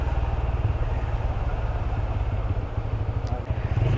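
A motorcycle rolls slowly through a traffic jam on the road to Darjeeling from Rangpo, its engine a steady low drone with continuous road and wind rumble close up, no voices.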